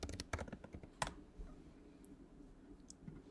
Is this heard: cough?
no